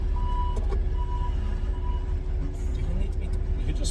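A forklift drives near a trailer at a freight facility where oversized loads are hauled: a steady engine hum with intermittent high beeping close by, and voices talking over it.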